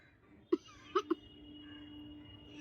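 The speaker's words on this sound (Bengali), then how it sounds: "কাশি হচ্ছে" Coughing from burning chili smoke, one sharp cough followed by two quick ones close by, then a faint steady hum in a quiet room.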